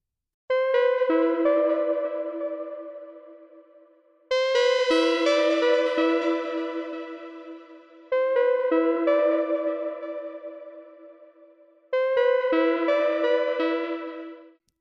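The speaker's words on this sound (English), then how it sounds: "it's really mystic ambient sound, but it's really nice, and it sounds like this." An airy ambient synth lead in a deep, melodic house style plays four long, echoing notes, each struck brightly and slowly decaying into a shimmering, chorus-washed tail.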